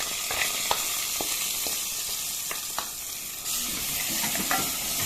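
Egyptian rice with vermicelli fries in a pot while a spoon stirs it, giving a steady close sizzle punctuated by sharp scraping clicks from the utensil.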